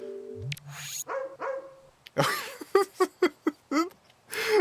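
Cartoon dog barks from the Barbie Groom and Glam Pups Wii game, a run of short, bright yaps in quick succession after some chiming game tones, close and clear with no talk over them.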